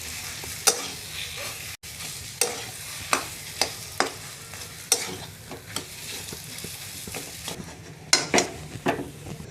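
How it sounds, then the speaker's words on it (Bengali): Mashed potato sautéed with cumin, coriander powder and chopped coriander leaves in a pan: a continuous frying sizzle with repeated rhythmic spatula scrapes and knocks against the pan, close and clear, no talking. "মশলার সাথে ভালো করে কষে নেব।"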